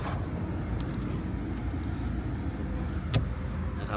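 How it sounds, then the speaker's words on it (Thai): A 2016 Mercedes-Benz E220d AMG Dynamic with a diesel engine idling: a steady, even low rumble that holds without change throughout, close by, with one faint tick near the end. "เนี่ยเครื่องดีเซลสตาร์เรื่องอยู่นะครับ นิ่งมาก ๆ"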